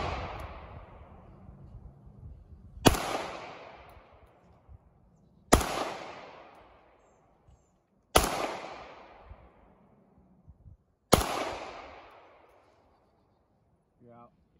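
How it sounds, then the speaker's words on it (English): Four loud, sharp gunshots fired outdoors, spaced a few seconds apart, each cracking out and ringing off into a long fading echo, with low background noise between shots. "I'm gonna let you guys see this right here of the gun shooting"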